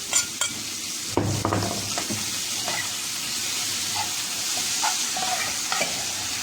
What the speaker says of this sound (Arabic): هننزل اهو بشويه السبانخ اللي انا سايباهم